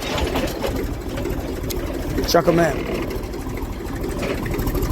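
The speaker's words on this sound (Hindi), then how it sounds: "अपना ट्रैक्टर स्लो करूँगा" A tractor engine chugs steadily with a low, rhythmic idle-like throb as it slows on a cold day, while someone talks over it throughout.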